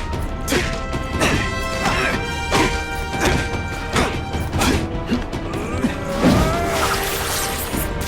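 In The Amazing Spider-Man 2 video game, a seismic blast lands as a run of heavy crashing impacts and thuds, loud and close, with whooshes and clattering between them. A voice talks briefly over the chaos.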